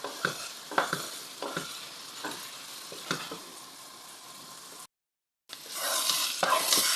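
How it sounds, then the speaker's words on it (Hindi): A spoon stirs potato halwa frying in ghee, giving soft scraping strokes at an uneven rhythm over a low sizzle. A short break of silence follows, then the sizzle returns louder and brighter. "बस साथ साथ हमने चम्मच चलाना है और इसको"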